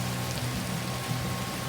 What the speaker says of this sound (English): We have rain in the mountains.